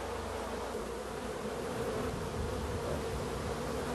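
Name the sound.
honeybees buzzing in the hive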